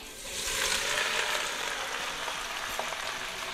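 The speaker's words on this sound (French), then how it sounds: "Je remets ma viande dans mon bol et on va tout mettre à saisir." Marinated beef sears in hot vegetable oil for a gratin bourguignon, giving a steady broadband sizzle that swells after a quiet start and holds loud and close, with a few faint stirring clicks.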